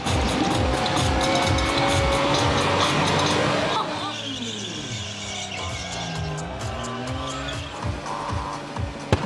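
Burnout contest cars in Saxony spin their tires, engines revving up and down loudly while tires squeal and hiss continuously, one car's pitch dropping and rising in long sweeps.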